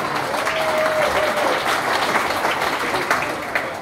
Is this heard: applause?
yes